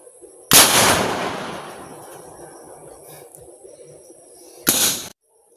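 Two blasts from a homemade lantaka bamboo-style cannon used to drive sparrows from a rice field, a loud boom with a long decaying echo followed seconds later by a second shorter bang that cuts off abruptly.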